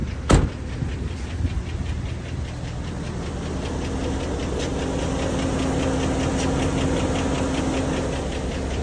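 Cadillac Escalade engine idling outdoors with lifter noise, a steady low hum and fast faint ticking throughout, with one sharp knock near the start.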